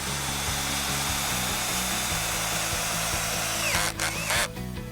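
A power drill drives screws through a hollow vinyl railing into a U-shaped bracket inside, running with a steady high whine and rhythmic clatter for about four seconds, then stopping briefly and spinning again.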